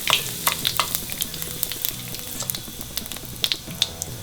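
Kalonji (black onion seeds) and hing hitting hot oil, giving a steady close sizzle dotted with sharp crackling pops throughout.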